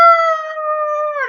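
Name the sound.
voice imitating a howl at the moon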